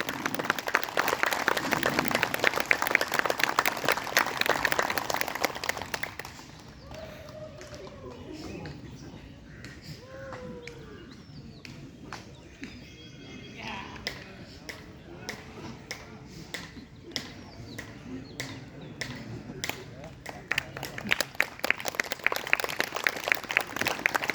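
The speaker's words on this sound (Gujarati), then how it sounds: "જોરદાર તાળીઓથી વધાવશું" Loud, dense clapping from a yoga class group fills the opening seconds, dies down into quieter murmuring and a voice, then swells back into rapid applause toward the end.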